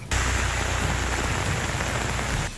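Heavy, torrential rain pours down on Lemnos, a dense, steady roar of water hitting surfaces that stays loud and unbroken throughout, with no voices.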